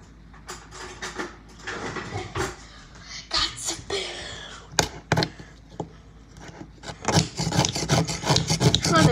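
A spoon scrapes frozen fruit in a big cup in a series of irregular rasping scrapes, close and fairly loud, growing busier and denser toward the end, with no talking over it.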